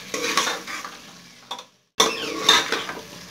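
A spoon stirs potatoes and spices frying in a pan for aloo gobhi. Close, crackling sizzle alternates with scraping strokes, with one brief silent pause before the stirring resumes.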